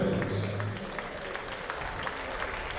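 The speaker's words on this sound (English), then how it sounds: "And the crowd you can hear there." A cricket crowd at a Hampshire Hawks v Surrey Vitality Blast T20 match applauds Hampshire reaching 100, a moderate, somewhat distant spattering of claps with a voice talking briefly at the start.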